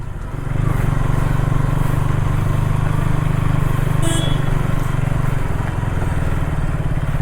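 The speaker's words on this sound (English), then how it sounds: "let's go for a short ride on this KTM Duke 160" A KTM Duke 160 motorcycle being ridden, its engine droning loudly and steadily from start to finish after a brief quiet opening, the hum easing slightly toward the end, with no talk.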